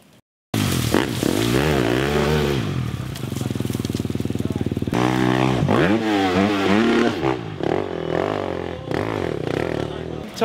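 A dirt bike revving hard at the Croom motocross area in Florida, the engine climbing and falling in repeated loud pitch sweeps with a bog and rattle, close by, and brief voices under it.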